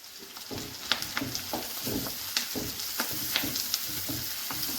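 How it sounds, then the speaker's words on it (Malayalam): Capsicum and green chillies are stir-fried with onion and tomato for Kerala thattukada-style kothu parotta, giving a steady close sizzle with repeated scraping strokes of the spatula against the pan. "ക്യാപ്സിക്കവും പച്ചമുളകും കൂടി ചേർത്ത് നന്നായിട്ടൊന്ന് ഇളക്കി കൊടുക്കാം."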